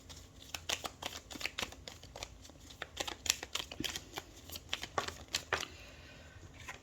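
Tarot cards riffled and shuffled in quick bursts of crisp flicking and slapping, close and fairly quiet, with no talking.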